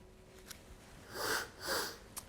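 Someone takes two long, close sniffs of olive oil from a dark tasting cup in a quiet room, each sniff a steady rising and fading breath in.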